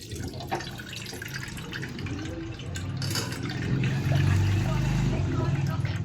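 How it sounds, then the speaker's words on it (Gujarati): Water draining from soaked sabudana (tapioca pearls) in a home kitchen, a steady wet trickle and dripping that grows slightly louder toward the end, with a voice present in the background. "સાવ પાણી નીતારી નાખવાનું।"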